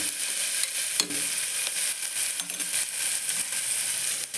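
Tomato and vegetables fry in a pan for a baby's vegetable pulao, with a loud, dense, continuous sizzle up close, punctuated by intermittent clinks and scrapes of a spoon stirring.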